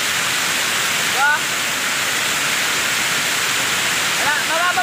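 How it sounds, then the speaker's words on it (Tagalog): A waterfall pours with steady flowing water, a loud, continuous rushing wash close by, while faint voices briefly rise above it. "First time ko makakita ng gantong falls na agusan na tubig."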